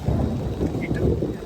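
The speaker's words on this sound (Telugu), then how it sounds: "ఈ రోజు వర్షం కొంచెం గట్టిగానే పడుతుంది" Heavy rain with thunder: a low, rumbling wash of storm noise with steady rainfall, loud and continuous over its short length.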